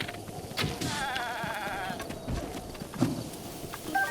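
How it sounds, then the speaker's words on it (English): A goat in the video game Breath of the Wild gives a wavering bleat over steady game ambience, with a few faint clicks and rustles around it. "And here's a goat we haven't killed."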